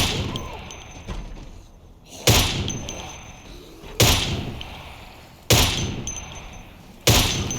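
Four loud, sharp rifle shots from Project Zomboid, spaced about two seconds apart, each a sudden crack with a short decaying tail over a quieter game background.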